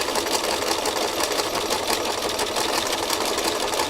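A sewing machine stitches fabric close to a seam edge at an even, fast, continuous whir with a steady mechanical patter and no pauses.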